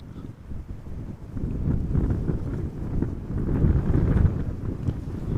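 Wind at Amsterdam Schiphol Airport, a steady low rumbling roar that buffets the microphone and swells louder midway, with no voices.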